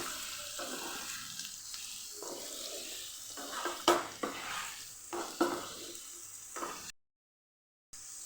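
Spices being stirred into farali sukibhaji in a pan, a soft sizzle with intermittent scraping and clattering spoon strokes, then a brief silence near the end.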